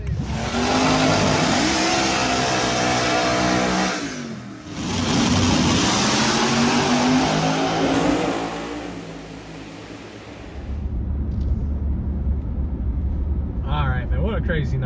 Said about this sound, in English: Both big block Pro Charge cars, so they're getting the track prepped, and next VLC they'll be rolling out onto the track.